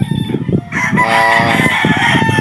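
A game-farm battle stag rooster crows nearby, a loud drawn-out cock-a-doodle-doo rising over some brief clucking and background chatter at the start.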